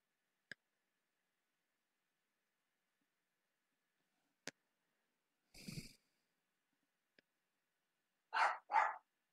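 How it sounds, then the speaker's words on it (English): A dog barks twice in quick succession near the end, loud and close, after a long quiet stretch with only a few faint ticks and a brief muffled thump indoors. "My dog is going crazy."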